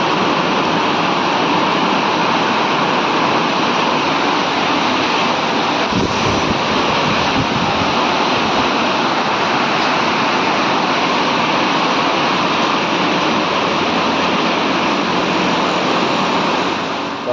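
Heavy rain and strong wind lash down during a storm in Anand, a dense, continuous roar of downpour with gusting wind buffeting the microphone, loud and unbroken throughout.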